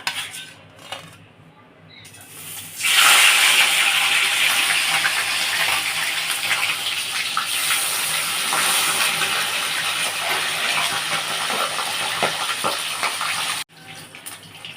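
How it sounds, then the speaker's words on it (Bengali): Parshe fish sizzling as it fries in mustard oil in a wok, a loud steady hiss and crackle that starts abruptly after a few quiet seconds, continues with little change and cuts off near the end. "আমি মাছগুলো এবার ভাজা বসাচ্ছি"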